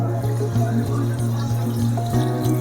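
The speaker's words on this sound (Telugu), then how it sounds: "ఈ వాటర్ ఇందులోనే పోసి" Water pours steadily into a pot in a continuous splashing rush, with a low droning hum running underneath.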